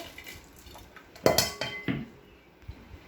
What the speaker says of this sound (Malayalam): അരിഞ്ഞു വെച്ച സാധനങ്ങളെല്ലാം ഉരുളിയിലിടുന്നു.